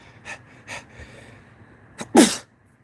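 A single sharp, loud sneeze follows a few quiet breaths and sniffs, close to the listener.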